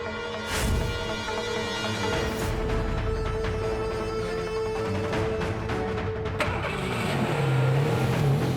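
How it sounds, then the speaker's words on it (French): A car engine runs steadily on the road, loud and close throughout, with a brief rev near the start and a deeper rumble toward the end. "Yuvi, arrête la voiture tout de suite"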